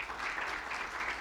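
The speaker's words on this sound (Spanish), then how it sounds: "así que démosle un fuerte aplauso" A congregation claps for a preacher in a church service, a steady, dense wash of many hands sustained without a break through the moment, with no voices over it.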